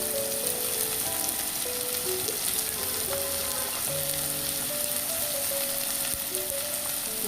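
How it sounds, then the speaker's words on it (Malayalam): Sliced onions sauté with a little salt in a pan, giving a steady, close, even sizzle with faint scraping of a spatula throughout and no talking. "അല്പം ഉപ്പ് ചേർത്ത് കൊടുക്കുക അപ്പോൾ പെട്ടെന്ന് സവാള വഴന്ന് കിട്ടിക്കോളൂ"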